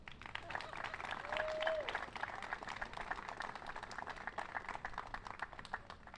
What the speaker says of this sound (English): how about just a round of applause for our engineers